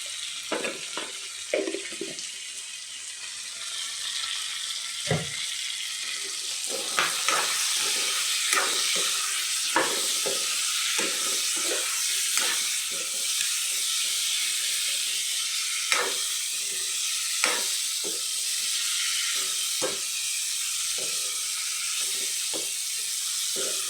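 Broiler chicken pieces fry with dried ground spices in a hot pan, a steady hiss of sizzling broken by stirring clatters and scrapes, close and without talk.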